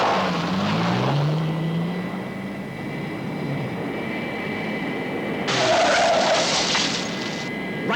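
Thunderbird 1, the rocket craft from the Thunderbirds TV show, takes off with a steady jet roar that swells louder near the end, heard alone and fairly close.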